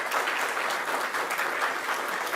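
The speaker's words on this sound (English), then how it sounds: "Let's give him a round of applause." A crowd at a public housing announcement applauds the mayor, dense steady clapping at moderate level throughout a short burst, with no voices over it.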